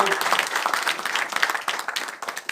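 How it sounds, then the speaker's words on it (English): A fitness seminar audience in India claps for itself, a moderate patter of many hands with distinct individual claps, fairly quiet and thinning slightly toward the end. "So give yourselves a round of applause for that."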